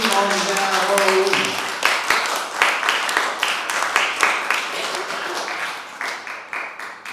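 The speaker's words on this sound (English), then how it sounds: "I want one big round of applause for all performers." Applause and scattered clapping for the performers at a poetry slam, a dense crowd sound that thins into separate claps toward the end, with voices over the start.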